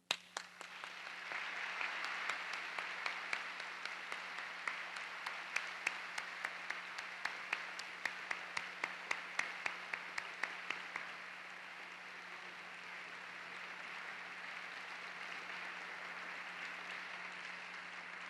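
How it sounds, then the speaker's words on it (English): An audience applauds university staff at a 2002 Edinburgh graduation ceremony: faint, distant clapping in a large hall with distinct individual claps, which thins out and fades after about eleven seconds, leaving a quiet room tone. "Please join me in applauding the staff of your university."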